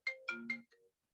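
A phone ringtone plays during an indoor Hindi spiritual book reading: a short electronic tune of three quick, bright notes and a softer fourth, fairly quiet and heard alone.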